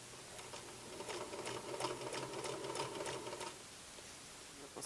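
A sewing machine stitches dress shirt fabric, its needle chattering in a quick, even rhythm close by for a few seconds before stopping, with no talk.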